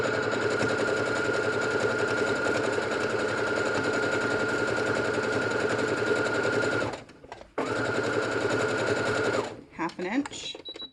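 A serger runs a straight stitch down the seam of a personal face mask, a loud steady mechanical whir lasting about seven seconds, pausing briefly, then resuming before slowing and stopping with a few small clicks.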